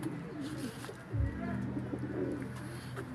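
Young pigeons cooing softly in a loft, with a low throaty coo rising near the middle and continuing as a faint murmur beneath steady background noise.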